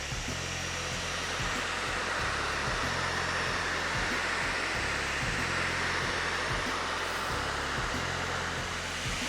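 A Gigabyte Aero15S laptop's cooling fan runs at full 100% speed in fixed mode, giving a loud, steady broadband whoosh with a low hum underneath that holds unbroken throughout.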